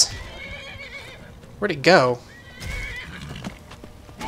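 A horse whinnies loudly in Skyrim during a fight, one sharp neigh in the middle with hoofbeats around it, while someone talks over the scene.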